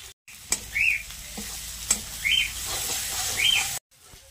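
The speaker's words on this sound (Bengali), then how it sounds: "এবারে কেটে রাখা টমেটো দিয়ে দিচ্ছি" Chopped tomatoes hit frying onion, ginger and garlic in mustard oil in a kadai, giving a strong, steady sizzle with a few spatula taps, while faint bird chirps sound in the background.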